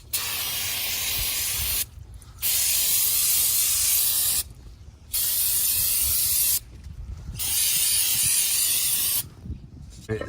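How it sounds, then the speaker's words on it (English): Four long, loud hissing bursts of aerosol brake cleaner sprayed onto brake parts, each lasting about two seconds, separated by short silent pauses. "Spray some cleaner."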